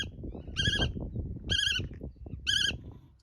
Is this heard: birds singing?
yes